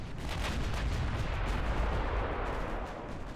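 Battleships fire a continuous barrage of distant naval gunfire in the Ultimate Admiral: Dreadnoughts video game, a dense rumbling wash of booms with no pauses, steady in level.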